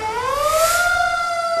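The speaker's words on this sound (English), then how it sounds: "The sirens and the lights that used to be very effective" A fire engine siren wails alone in a steady, loud tone that slowly rises in pitch, close by with no talk over it.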